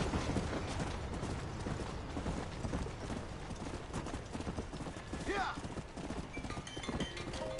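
Horse hooves clip-clop in Red Dead Redemption, a steady rhythmic trot running through the whole stretch under a dense game soundscape, with a brief whinny-like sweep near the end.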